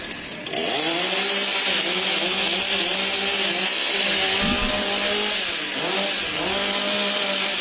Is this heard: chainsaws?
yes